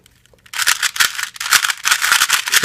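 A 2x2 Rubik's cube being turned quickly, giving crisp plastic clicking and rattling in rapid bursts with brief pauses, close up with no voices.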